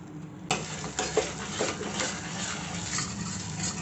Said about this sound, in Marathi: तेल सुटस्तोपर्यंत चांगलं तेल वाटण परतून घ्यायचं